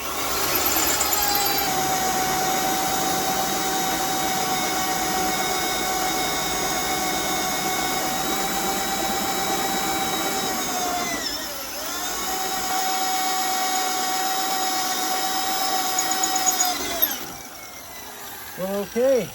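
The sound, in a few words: drill with resharpened drill bit drilling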